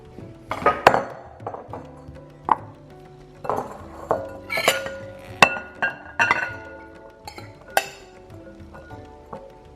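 Tuna pasta salad being stirred in a bowl, with repeated clinks and knocks of a utensil on the dish in an uneven rhythm, close and fairly clear.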